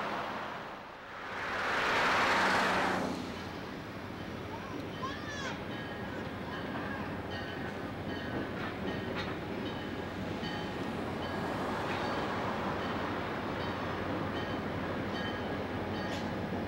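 Heavy freight train hauled by three GP40 locomotives on the Southern Pacific Coastline with steep grades, a loud steady diesel rumble with rail clatter and squeal, a brief horn-like tone early, sustained throughout.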